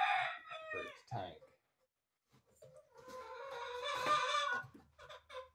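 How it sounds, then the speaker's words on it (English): A chicken that has wandered into a workshop clucks and crows close by, with an indoor echo. The calls come in two bursts separated by a short silence, and the second burst is longer. "there's a chicken that has snuck in here"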